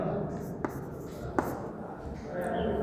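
Writing on a classroom board brings a few faint scratches and sharp taps under continuous close speech from a teacher.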